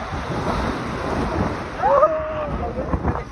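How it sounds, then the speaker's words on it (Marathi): Sea waves wash and break on a beach in Goa, a steady broadband roar of surf with wind buffeting the microphone close up, and a brief whistle-like tone rising over the water near the middle. "लाट होती"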